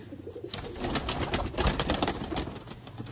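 Sialkoti pigeons of the Master Abdullah line, red- and green-pearl-eyed breeders, coo in soft repeated bursts close by, with a rustling, busy loft background.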